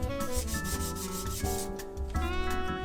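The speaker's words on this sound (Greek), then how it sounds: "Περνάμε λοιπόν άλλα 3 χέρια σουρφασέρ, τρίψιμο ξανά σουρφασέρ, μέχρι να καλύψουμε όλα τα κενά του ξύλου" Wood filler is sanded on the body of a handmade wooden grand piano, a continuous close rubbing and scraping over a steady tonal background.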